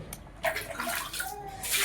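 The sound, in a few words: washing feet with water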